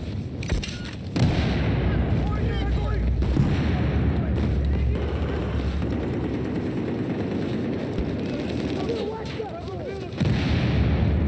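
In Battlefield 4 team deathmatch, a grenade blast booms amid continuous battlefield din of gunfire and distant explosions, loud and dense throughout, with a second heavy burst near the end and a voice faintly underneath.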